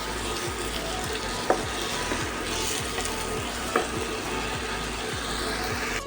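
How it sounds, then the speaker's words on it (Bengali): Eggplant is stirred with spices in a frying pan: a continuous sizzle runs under repeated rhythmic scrapes of the spatula, with two sharp clinks of utensil on pan. "মশলার সাথে বেগুনগুলোকে একটু ভালো করে মিশিয়ে নেব।"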